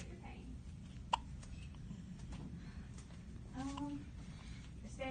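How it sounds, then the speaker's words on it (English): A day-old newborn baby girl hiccups once, a sharp, brief, quiet catch, with faint murmuring voices and room noise around it. "She has the hiccups."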